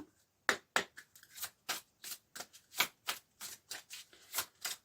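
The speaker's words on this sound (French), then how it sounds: "on va prendre une carte d'un archange" Cards from an archangel oracle deck being shuffled and drawn, a quick series of close, crisp riffling swipes and flicks with short pauses between them.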